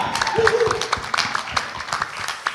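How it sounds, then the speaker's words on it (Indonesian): A crowd applauds steadily at a Jakarta anniversary talk show event, a dense patter of clapping filling the space, with some voices mixed in. "Tepuk tangan untuk Jakarta"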